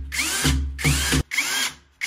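A power drill drives stainless steel screws into expansion anchors to fix a shower rail mount, in several loud bursts of whirring with short pauses between them.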